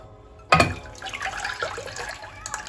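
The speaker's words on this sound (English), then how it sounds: "And now I'm going to transfer this into a small saucepan." Lemon curd mixture pours from a bowl into a small saucepan, a sudden splash followed by a steady, close liquid trickle lasting a couple of seconds.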